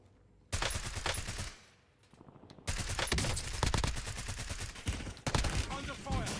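Gunfire in the video game Diablo IV comes as loud bursts of rapid automatic fire and scattered shots, with a brief lull midway and a voice briefly audible.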